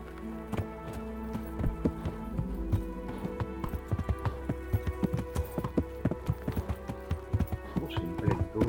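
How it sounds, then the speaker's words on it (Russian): Horse hooves clip-clop steadily in Kingdom Come: Deliverance, a rhythmic string of close hoofbeats that grows busier toward the end, with game ambience beneath and no talk. "Ёбаный конь, блядь, стоять!"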